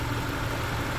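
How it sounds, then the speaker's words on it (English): A Bugeye car idles with a metallic vibration from its exhaust, a dense, steady low rumble with a buzzing rattle running throughout the brief moment. "There is a metallic vibration sound that I suspect,"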